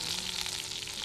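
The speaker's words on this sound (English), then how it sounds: "You can hear that roast sizzling." A roast sizzles over a very hot campfire in the Australian outback, giving a continuous close crackling hiss with fine popping, steady and unbroken, with no one talking.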